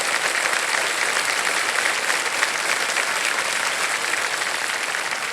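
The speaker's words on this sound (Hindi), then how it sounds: "तालियां बज जाएं इनके लिए।" A studio audience on the Indian quiz show Kaun Banega Crorepati applauds a contestant who has won three lakh rupees, a steady, even roar of clapping filling the room from start to finish without talk.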